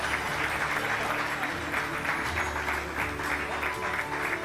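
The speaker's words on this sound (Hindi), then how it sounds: "बजा दें तालियाँ, ज़रा गर्मी हो जाएगी।" Sustained applause from the audience at an Urdu mushaira poetry recital, dense steady clapping filling the room at an even level throughout, with no voices over it.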